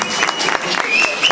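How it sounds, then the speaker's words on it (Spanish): Applause rises from a crowd at a queen-selection pageant in Milford, a dense, loud patter of clapping with voices and a whistle-like tone mixed in over its short length. "fuerte las palmas, por favor"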